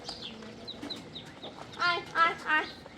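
Chickens on a small homestead farm cluck in a few short bursts near the end, close and fairly clear, with faint background chatter before them.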